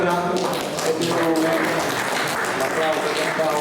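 Audience at a Sardinian poetry competition applauding a poet, steady dense clapping filling the whole stretch with a murmur of voices underneath.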